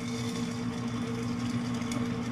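A tabletop Old Time Movie popcorn maker runs with a steady mechanical hum and whir, a constant near drone with no breaks and no talk.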